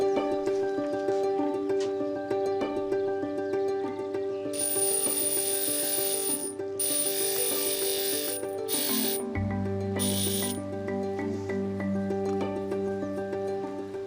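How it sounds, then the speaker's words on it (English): A workshop grinder wears down the bottoms of glasses so they fit into cup holders. A steady mechanical whir and rattle runs throughout, with harsher grinding bursts where glass meets the wheel and a drop in pitch near the end. "I'm gonna have to grind this larger piece away from the bottom of some of these glasses"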